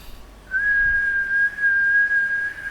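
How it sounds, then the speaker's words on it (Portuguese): A person whistles one steady, clear tone, starting half a second in and holding for about two seconds with a brief dip midway, alone against a quiet background. "Mas se eu assobiar, por exemplo"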